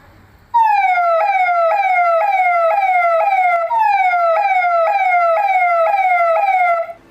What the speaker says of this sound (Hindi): तो हुटर का आप रिस्पॉन्स सुनिए साउंड का